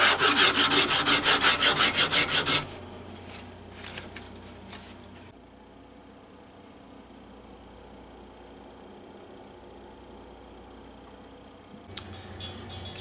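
Frets on a 1948 Gibson LG-3 acoustic guitar are crowned and polished: loud, dense back-and-forth rasping strokes at first, then softer intermittent rubbing, a quiet stretch, and a few brief scrapes at the end.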